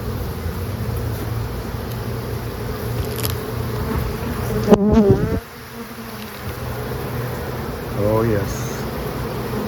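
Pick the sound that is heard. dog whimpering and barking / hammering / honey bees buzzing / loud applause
honey bees buzzing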